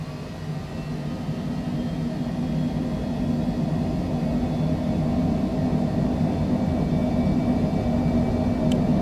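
Citation Longitude business jet engines spooling at full takeoff power in a flight simulator game, a steady loud roar and rumble that swells slightly and holds without pause.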